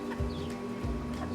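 Several chickens in a sand-floored backyard chicken run cluck softly, with two low throaty bursts standing out over a steady hum of background noise; no one speaks.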